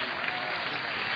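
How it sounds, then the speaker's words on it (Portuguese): A TV studio audience bursts into applause on a Brazilian talk show, a brief, continuous roar of many clapping hands filling the room at an even level. "Aplausos, senhoras e senhores."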